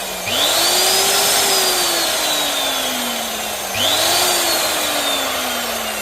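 A Refina Megamix electric mixing drill's motor whines up to speed, holds a steady drone, dips, then spins up again, loud and close with no talking.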